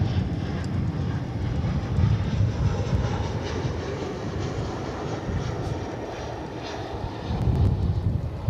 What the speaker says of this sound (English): It's American Airlines Flight 2221, a 737-800.